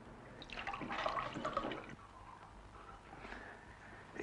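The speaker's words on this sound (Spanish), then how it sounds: "Aquí le das al grifo y tú el agua que quieras." Tap water runs in a short gush for about two seconds and then falls to a faint trickle and drips, quiet and close by.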